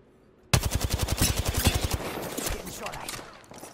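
Rapid burst of automatic gunfire rattles close and loud in a shooter game, about a dozen sharp evenly spaced shots followed by a trailing echo and fainter activity.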